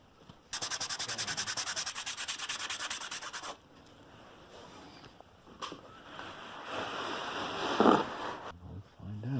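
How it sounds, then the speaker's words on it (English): Scrubbing spilled paint off a 1955 Lionel postwar dealer train display layout, a close rhythmic rasping rub for a few seconds, then quieter brushing and rubbing with a voice speaking. "Scrubbing it up a little bit."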